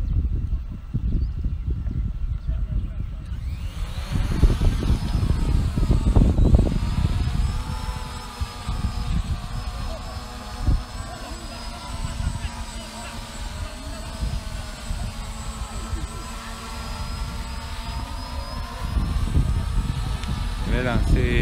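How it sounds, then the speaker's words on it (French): A ZLL SG906 Pro2 drone spins up for an automatic takeoff, its rotors rising into a steady high-pitched whine and buzz that holds at moderate loudness, while someone talks over it throughout. "Je vais dire de décoller automatiquement."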